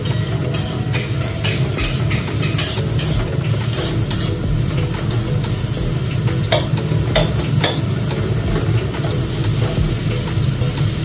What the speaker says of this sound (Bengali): পেঁয়াজটা একটু হালকা ভাজা ভাজা হওয়ার পর আমি চিকেনটা এর মধ্যে দিয়ে দেবো। মানে পেঁয়াজ আর চিকেনটা একসাথে মজবো।